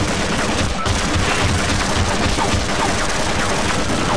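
An automated gun turret in Half-Life firing a dense, continuous stream of rapid shots, loud and harsh, that fills the whole stretch without a break.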